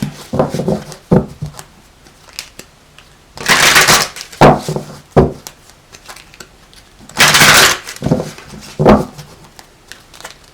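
Two long bursts of tarot cards being riffle-shuffled, each a second or so, with softer taps and handling between them; no talking.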